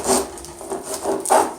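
A knife peels strips of skin down the side of a fresh pineapple, a few rough rasping strokes that rise and fall in quick succession, close and fairly loud, with no talking.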